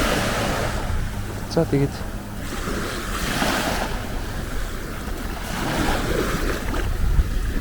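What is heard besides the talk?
sea waves at a beach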